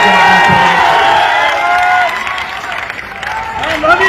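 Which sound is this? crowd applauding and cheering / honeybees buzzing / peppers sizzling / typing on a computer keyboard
crowd applauding and cheering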